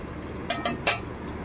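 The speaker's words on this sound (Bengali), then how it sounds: "এবার ঢাকা দিয়ে দিলাম।" Metal lid set onto a pot of chicken simmering on low gas, three quick clinking rattles in succession, close and bright over a quiet kitchen hiss.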